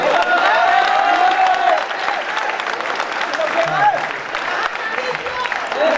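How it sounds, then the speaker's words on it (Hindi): Audience in a hall applauding at a public event, steady loud clapping throughout with a few voices and crowd noise mixed in. "मुझे तालियों से संकेत कीजिएगा।"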